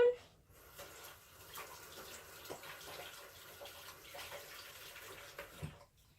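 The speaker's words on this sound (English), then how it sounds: "rinse off my tablespoon" A tablespoon is rinsed under a running kitchen tap, giving a soft, continuous water splash with light clinks and bumps. The sound is quiet and close, and it ends abruptly.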